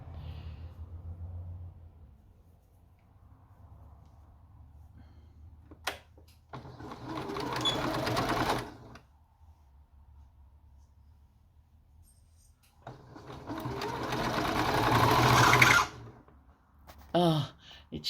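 A sewing machine stitches a wide fabric headband in two sustained, fairly loud whirring runs separated by a quiet pause, with faint handling noises between.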